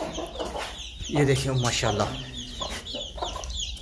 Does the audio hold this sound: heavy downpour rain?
no